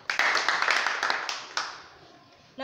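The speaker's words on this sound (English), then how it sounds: "Clap for her." A short burst of group clapping for a child at a children's church ministry class, brisk and close, fading out over a couple of seconds before a voice begins.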